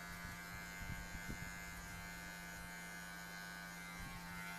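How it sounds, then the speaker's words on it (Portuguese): Electric hair clippers fitted with a number 1 guard during a taper fade haircut, a steady close mechanical buzz with a few brief louder touches as the blade meets hair. "vou pontilhando com o pente número 1"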